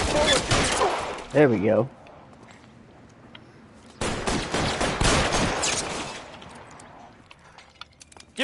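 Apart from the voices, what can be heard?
gunfire in the video game L.A. Noire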